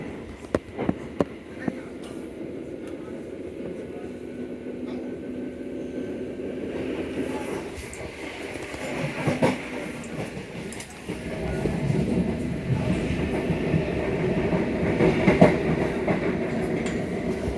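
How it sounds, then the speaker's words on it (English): A fast Southeastern mainline train rushes past on the line from Ramsgate toward Dover Priory, a loud steady roar with rhythmic wheel clatter that swells near the end. "A fast Southeastern service approaching, it's a mainline service from Ramsgate to Dover Priory"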